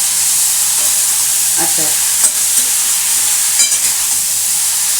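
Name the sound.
eggplant frying and sizzling in oil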